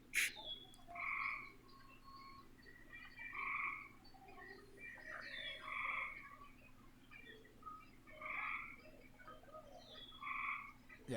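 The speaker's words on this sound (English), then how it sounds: "there's frogs in the background" Several frogs croak in repeated bursts from the background, fairly faint and spaced every second or two against steady low ambient noise, with no talking.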